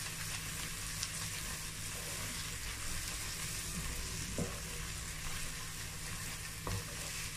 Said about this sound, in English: It does not burn because I didn't let go. I've been stirring it.